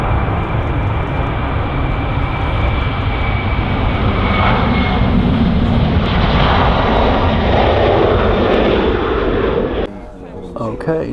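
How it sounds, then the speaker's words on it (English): An Airbus A330 passes close at Manchester Airport, its jet engines making a loud, continuous roar that holds steady for nearly ten seconds before dropping off sharply. "So here we've got the Fungus Airbus A330. Absolutely magnificent aircraft."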